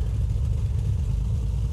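The right engine of a propeller aircraft in Microsoft Flight Simulator X starts up, giving a steady, deep rumbling drone with a low throbbing pulse, sustained and fairly loud without pause.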